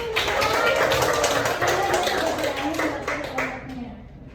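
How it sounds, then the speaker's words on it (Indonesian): A classroom of students clapping for a classmate during a micro-teaching poetry lesson, a dense burst of hand claps that holds steady, then thins out and stops near the end. "Beri tepuk tangan dulu."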